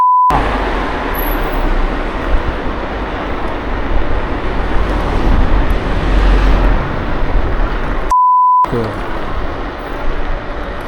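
A car overtakes close beside a KuKirin G2 electric scooter on a 30 km/h town street, its broad engine and tyre roar loud and steady over wind noise for most of the stretch before cutting out briefly.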